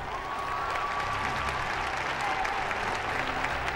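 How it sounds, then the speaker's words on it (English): Crowd of visitors at a bullfight in Provence applauding, a continuous even wash of clapping at a steady level from start to finish. "Crowds of visitors thrill to the bullfight."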